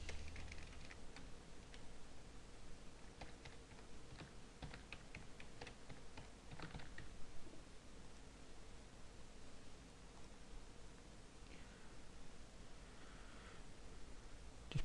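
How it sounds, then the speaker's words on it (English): Keystrokes on a computer keyboard as a system password is entered, a brief burst of fairly quiet clicks over steady background hiss, then mostly noise with a few faint taps. "Now I need to put a password in for the system."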